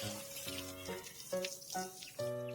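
Water runs and splashes at a sink while a face is washed, with irregular close splashes and the steady flow broken into short bursts.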